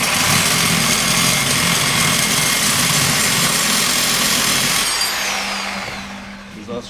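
A wheel grinder working on a rusty Silverado 1500 crossmember, a loud steady high-pitched whine with a dense harsh rasp that winds down toward the end.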